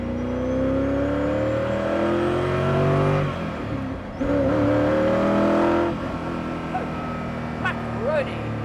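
Koenigsegg CCXR Edition sports car accelerating on road and track, a loud droning engine note climbing steadily in pitch through the gears, heard from inside with a brief dip between shifts.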